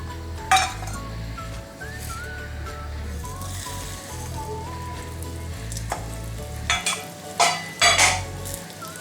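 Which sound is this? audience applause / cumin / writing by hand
cumin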